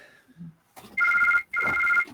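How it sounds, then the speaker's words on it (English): A phone ringtone rings in two loud, sustained electronic bursts with a short gap between, heard alone at the close of a live online chat show. "And now somebody's ringing me."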